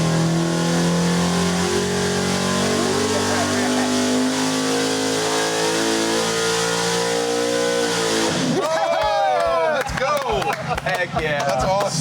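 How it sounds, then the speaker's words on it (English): A 406 cubic inch dirt track race engine with cast iron heads revs hard under load on a dyno, a loud sustained climbing roar that cuts off sharply near the end into choppy, popping deceleration bursts. "try and squeeze a bit more out of this dirt track power plant"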